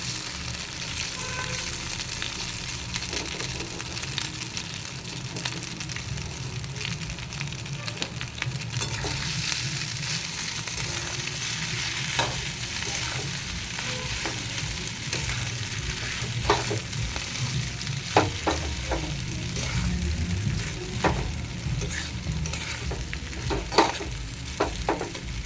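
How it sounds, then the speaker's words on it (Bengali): Chow mein noodles frying in a hot pan give a continuous oily sizzle, with scraping stirs and clinks of the utensil scattered through it. It sounds close and steady for the whole stretch, and no one speaks. "তো সব চাউমিনটা দিয়ে দিয়েছি, ভালো করে একটু নেড়ে নেব।"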